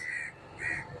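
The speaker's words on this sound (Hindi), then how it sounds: "आपका साथी लोग काँव काँव कर रहा है" A crow gives two separate harsh caws, each short and fairly clear at middling distance, with a quiet pause between them.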